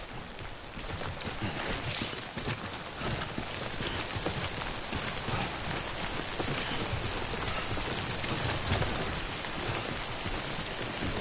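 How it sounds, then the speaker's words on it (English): Steady rain pours down throughout, a dense continuous patter of drops striking surfaces close by, the timefall of the game Death Stranding, with no voices over it. "Don't stay out in the rain any longer than you have to."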